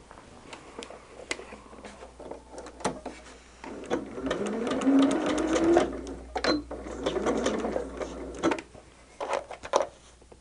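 A domestic sewing machine stitches quilt fabric blocks and borders in fast rattling runs with short pauses between them, close up and alone.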